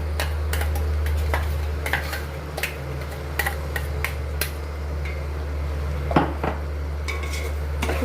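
Roasted masala is stirred and fried in a pan, with irregular spoon scrapes and taps against the metal over a steady low rumble of the stove, with no talk.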